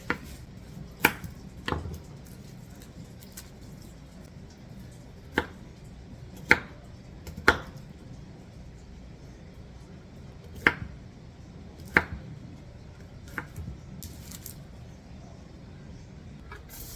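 A knife chops a couple of garlic cloves for a winter squash soup. Crisp, close strikes land at irregular intervals, some louder than others, with no talking.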